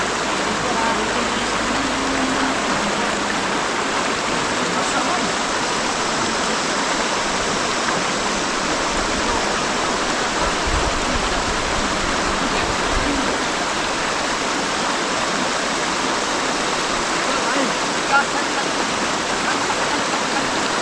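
River water flowing nearby, a loud, unbroken rushing roar that stays constant throughout.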